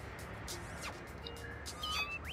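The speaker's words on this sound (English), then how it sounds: "the really kind of like adorable cat meow" Cat meowing in the No More Heroes video game, a couple of short faint meows over a steady game background hiss with some brief chirps.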